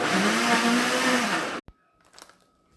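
A blender on its smoothie setting mixes a milkshake, a loud steady motor whir with churning liquid that runs strongly for about a second and a half, then cuts off abruptly, leaving faint clatter and quiet room noise.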